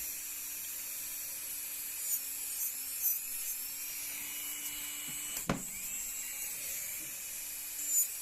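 An electric nail sander set around 15,000 to 20,000 rpm removes colour from natural nails during a gel refill, a steady high whine running throughout with a low hum underneath and a few brief scraping bumps.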